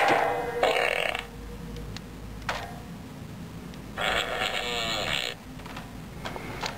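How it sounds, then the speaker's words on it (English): Cartoonish fart sound effects from a free iPod Touch/iPhone app, two long buzzing blasts separated by a pause, with quieter handling noise between them. "all it does is it makes fart sounds when you twist it"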